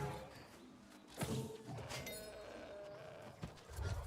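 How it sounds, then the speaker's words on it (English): A goat in a video game bleats a couple of times amid thumps and game noise, moderately loud and near, with no talking over it. "Piss off, goat."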